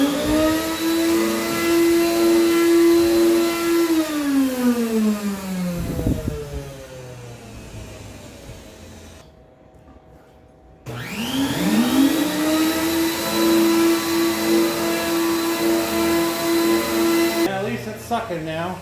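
The electric pump motor of a Powr-Flite Black Max extractor runs with a loud, droning whine, cuts out briefly, then starts up again and keeps running steadily; a voice talks over it in places.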